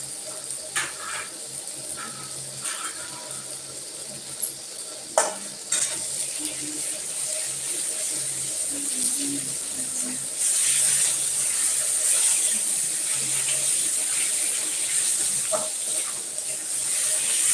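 Garlic paste sizzles in a pan with golden fried onions for a chicken curry, a steady frying hiss broken by occasional stirring clanks and scrapes, swelling louder in the second half.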